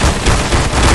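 Loud, close rapid gunfire in the CS:GO zombie escape mode, a dense burst of automatic shots rattling continuously for about a second.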